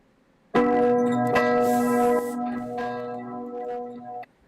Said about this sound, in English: That's good church bell.